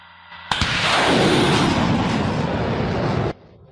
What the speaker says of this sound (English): They once more turn the vehicle around and finally launch the first rocket.